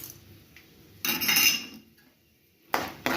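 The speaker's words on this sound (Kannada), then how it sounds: "ಕಡಲೆ ಬೀಜ ಹಾಕ್ಬಿಟ್ಟು ಸ್ವಲ್ಪ ತಿರ್ಗಿಸೋಣ" A utensil scrapes and clinks against a pan as peanuts and chana dal are stirred while frying over low heat. It comes as two short bursts of metallic scraping with quiet in between.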